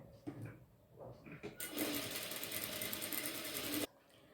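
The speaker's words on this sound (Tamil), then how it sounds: "ஷோல்டர் ரெண்டையும் ஒரே மாதிரி பிடிச்சிட்டு 1/4 இன்ச்சுக்கு ஸ்டிச் பண்ண போகிறேன்." A sewing machine runs a quarter-inch stitch along the shoulder seam of a baby top. A few short bursts come first, then one continuous run of about two seconds stops abruptly, with soft handling noises around it.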